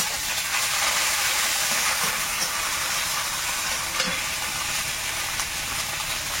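Five-spice seeds, chopped onion and ginger-garlic paste frying in hot oil, loud, dense continuous sizzling up close with occasional light utensil taps.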